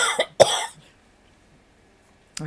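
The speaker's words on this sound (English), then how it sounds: "I am sucking on something here to try to get this coughing under control." A person coughing twice in quick, close bursts, then quiet, with a faint sound at the very end.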